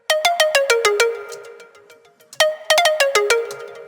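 Pluck synth built with FM synthesis and run through a compressor. Two quick bursts of bright, bell-like plucked notes step down in pitch, each note short with a fast decay and a light tail, loud and alone.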